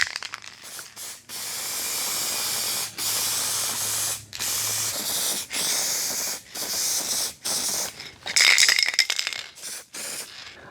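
A spray can lays a metallic paint top coat on a car body panel being repaired: loud, steady hissing bursts of a few seconds each, separated by short pauses, with one slightly rattly, harsher burst near the end.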